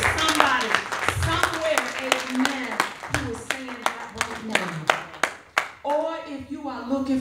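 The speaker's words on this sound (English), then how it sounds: "if we church can give a hand clap of praise" A church congregation claps in praise during a sermon. Sharp, distinct hand claps come in an uneven, repeated rhythm, while voices speak and sing loudly over them.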